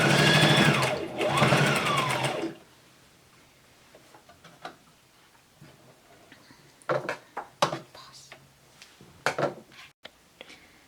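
A sewing machine back-stitching while sewing a cloth face mask: a loud mechanical whirr runs for about two seconds, then stops, leaving quieter scattered clicks and handling taps.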